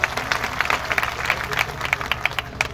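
A crowd at a Marathi religious discourse (pravachan) in Vasmat claps steadily, a dense patter of many hands that holds at a moderate level throughout without any voices.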